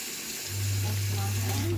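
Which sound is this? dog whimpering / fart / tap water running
tap water running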